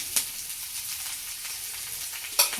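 Soybean chili with tomato sauce fries in a pan with a steady near sizzle, broken by two quick scraping clinks at the start and end.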